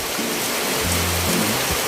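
Steady broadband hiss of heavy rain pouring down, constant and fairly loud, with some low tonal murmurs underneath.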